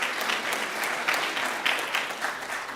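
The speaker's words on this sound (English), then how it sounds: "Let's give them a round of applause" An audience at an employee service award presentation applauds. A dense, steady wash of many hands clapping fills the room at medium distance for several seconds.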